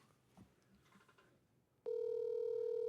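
A telephone ring tone held up to a microphone sounds as a loud, steady electronic tone, starting abruptly partway through after faint background noise.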